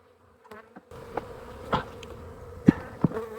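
Honeybees buzz around an open hive during a late-season inspection heading into winter. A faint steady hum is punctuated by sharp close clicks and knocks of equipment.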